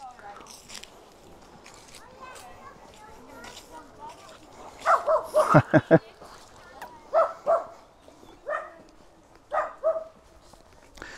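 Dogs give several close, sharp barks and yips in a burst, then scattered whimpers and huffs, with a person talking quietly in the background.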